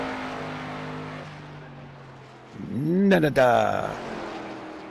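A race car in an ARCA stock car sim race at Phoenix roars past at close range, a rising then falling engine note under steady commentator talk.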